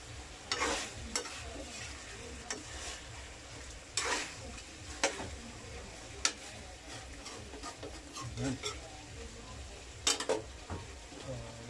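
Marinated chicken steak frying in a pan: steady sizzling with repeated scraping and stirring clatters at irregular intervals, close and moderately loud, no talk.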